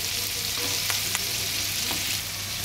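Sicilian meatballs of mixed pork, beef and veal fry in a pan with a steady close sizzle and crackle, broken by a few brief scraping stirs.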